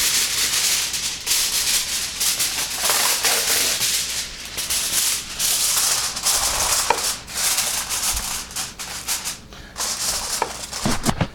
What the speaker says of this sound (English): we're gonna want to put any type of aluminum foil on top